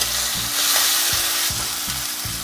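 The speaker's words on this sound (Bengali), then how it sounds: "আমি পেঁয়াজ আর কাঁচা মরিচের টুকরো এতে দিয়ে দেব। এগুলোকে ভালোভাবে লাল করে ভেজে নিতে হবে।" Onion and green chilli pieces fry in mustard oil for a rohu fish curry, giving a dense, loud sizzle with a utensil scraping the pan in a regular stirring rhythm about twice a second.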